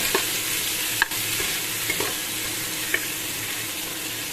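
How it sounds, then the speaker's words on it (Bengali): Tomato, chili, garlic and onion stirred in a pan over a steady sizzle, with a few sharp spoon scrapes and clinks against the pan. "এই দেখো, এভাবে নাড়াচাড়া করে নিচ্ছি অল্প একটু, খুব বেশি নয়।"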